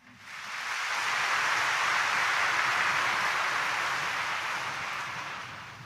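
A congregation at a Friday morning mass at Quiapo Church bursts into dense, sustained applause that swells quickly, holds steady and loud for about five seconds, then begins to taper, with no voices standing out.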